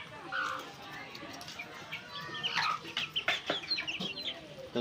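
Several Fayoumi chickens cluck and chatter nearby in short, irregular bursts while being fed, with a person speaking over them.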